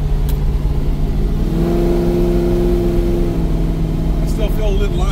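A Chevrolet C10 pickup with a big-block Chevy engine cruises down the road, its low engine drone steady with a brief rise in pitch as it pulls, a loud continuous rumble inside the cab.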